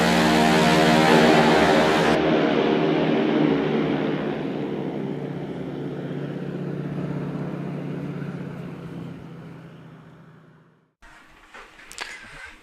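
A small propeller plane sets down on a gravel bar in the Noatak wilderness, its engine droning loud and close, then fading into a long, steady rumble before cutting off, followed by brief rattles and knocks.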